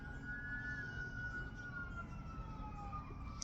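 Sirens wail in the distance, a steady rising and falling tone over a low background rumble, with no talking.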